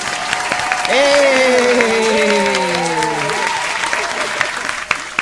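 An audience applauds to welcome Charlie Vox at a writers' rumble call-in show, a sustained burst of clapping with a voice calling out over it, then the applause fades.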